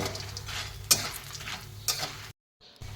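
Bori lentil dumplings frying in hot oil, giving a steady close sizzle with a couple of sharp stirring clinks before the sound cuts out briefly near the end.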